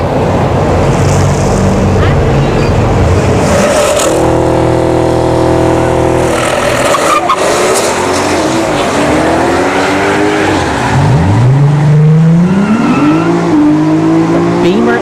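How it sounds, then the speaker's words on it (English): A Porsche Panamera Turbo and a BMW X3 M40i drag race at a dragstrip test-and-tune session, engines roaring loud and close with rising and falling tones as they accelerate and shift, with no voices over the din. "Panamera Turbo in the right lane. The X3 M40i in the left lane."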